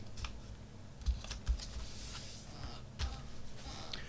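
A paper packing slip is folded down to fit an envelope, with faint, close rustles and a few soft crisp taps as the creases are pressed.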